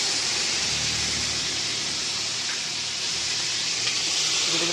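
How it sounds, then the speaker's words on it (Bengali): Marinated food frying in hot oil, a steady loud hiss and sizzle that holds evenly throughout, close up with no talk. "এটাকে একটু ভালো করে ভেজে নেব।"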